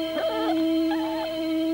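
A cartoon dog whimpers and lets out wavering, howl-like cries in an old animated film, two rising and falling calls over a steady musical drone.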